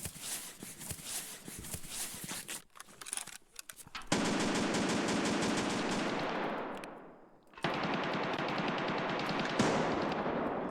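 Rapid automatic gunfire in the SPT shooter game, long dense bursts with brief gaps between volleys, loud and close throughout.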